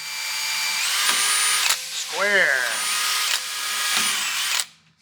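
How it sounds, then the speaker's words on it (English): A power drill fitted with a small bit whines as it bores through a drill guide into metal for a car bash bar, a high steady motor pitch that rises and falls in short runs, with a brief spoken word in between. "And I'll drill these suckers out for the 10 mil."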